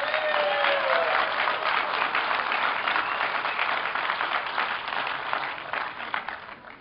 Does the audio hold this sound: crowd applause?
yes